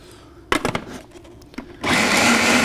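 A food processor pulses white cannellini beans and garlic, with a few short clunks before the motor kicks in and runs with a loud, steady whir.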